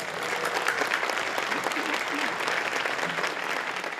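Applause from a large crowd of party members at a Liberal Party gathering, a steady dense clatter of clapping that holds evenly for several seconds, with voices mixed in underneath.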